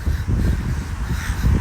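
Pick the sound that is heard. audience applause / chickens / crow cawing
crow cawing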